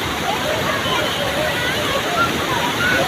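Lake water overflowing at a lakeside in Medchal, rushing in a steady, loud, continuous roar like a small waterfall, with faint voices in the background.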